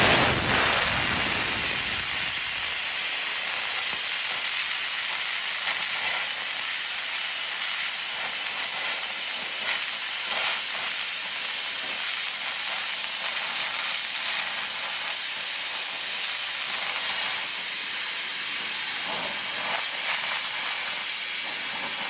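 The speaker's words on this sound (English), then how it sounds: "get the compressor turned on, get the plasma cutter turned on," Plasma cutter slicing steel for a firewood bundling stand, a loud continuous roaring hiss with steady crackle that starts after a brief quiet moment and runs unbroken throughout.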